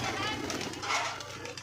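Pigeons coo softly close by while someone talks over them outdoors, where the birds are out grazing; the low murmuring calls sit beneath his voice throughout.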